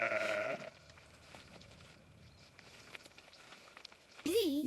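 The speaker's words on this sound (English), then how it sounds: "A fluffy black sheep says "Bah!" and playfully hops up to say hello." A fluffy black sheep by a big round haystack gives a short bleat at the start and another at the very end, loud and close, in a cartoon scene with a voice narrating between the calls.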